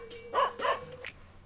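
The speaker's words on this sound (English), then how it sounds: "Sorry, dog was barking." A dog barks nearby in a quick burst of about three or four sharp yips and barks, loud and alone, at a home during a catfishing rig demonstration.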